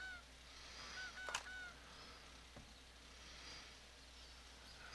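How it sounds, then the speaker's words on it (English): A goose honks in the game 7 Days to Die. There are a few nasal honks, one of them loudest near the start, over a quiet, steady background hum. "Oh, there's the goose."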